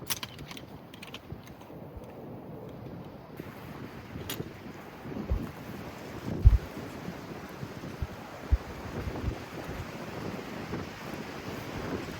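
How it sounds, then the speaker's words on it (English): Wind buffets the microphone at a valley campsite in low gusts, with rumbling swells and occasional bumps, steady and close throughout. "It's pretty windy though"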